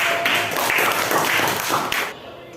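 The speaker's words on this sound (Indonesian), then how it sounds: "Oke, terima kasih untuk kelompok 3. Kita kasih aplaus dulu." A classroom of students applauds group 3, a dense patter of many hands clapping at steady volume for about two seconds before cutting off abruptly.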